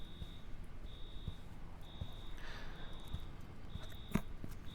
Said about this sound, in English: Let's figure out how to take the alarm off.